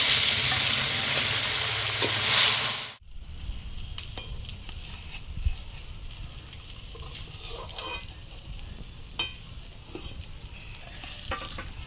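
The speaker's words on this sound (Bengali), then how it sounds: "আর দুটো মাছ আছে, ভেজে নেব" Loud, steady sizzling of khoira fish frying in hot oil for a few seconds, then it drops to a quieter crackle with occasional pops and clinks.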